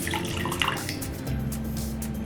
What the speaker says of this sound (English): So we're gonna give it a nice squeeze.